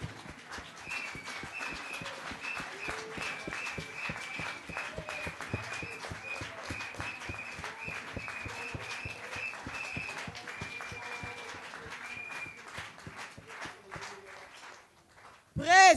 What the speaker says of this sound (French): Acclame très fort pour cette parole.